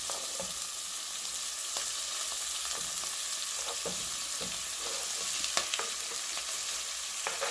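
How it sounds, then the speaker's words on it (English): Chopped onions and green chilies sauté in a pan for a curry, filling the clip with a steady hiss of frying broken by faint scraping and stirring taps, near and even in level, with no voices. "And allow them to nicely saute."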